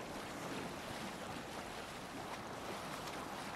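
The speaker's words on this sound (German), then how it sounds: "Boot fährt ja von alleine." Continuous rushing water and wind noise from a boat moving steadily across the sea in Assassin's Creed Valhalla, with no voices.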